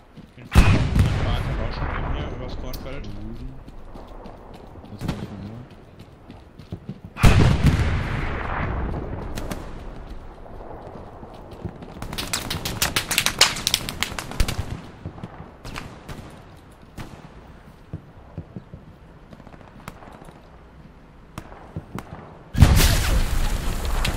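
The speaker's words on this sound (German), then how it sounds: "Die Stelle wird von zwei feindlichen Panzern aus Osten beschossen." Heavy tank cannon fire and explosions shelling a position from the east in Hell Let Loose, a WWII shooter set at Sainte-Marie-du-Mont: loud booming blasts recur irregularly, with sharp bursts near the start, middle and end amid rumbling battle noise.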